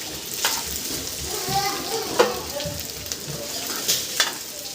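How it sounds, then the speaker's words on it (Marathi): Soaked sago pearls stirred into hot oil in a pan, a soft steady sizzle broken by a few scraping clicks of the spoon against the pan, with a quiet voice in the background. "आता ते त्याच्यामध्ये टाकणार आहे"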